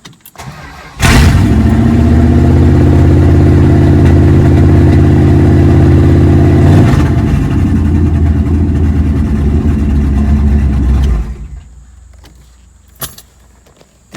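A 1969 Plymouth Satellite's engine catches with a jangle of keys, then idles loud and close with a steady, deep rumble and rises briefly before cutting off, leaving faint clicks.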